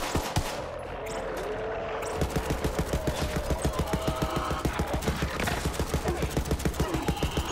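Gunfire in Borderlands 3, a rapid regular stream of shots repeating steadily after a short lull, loud and close, with game effects around it.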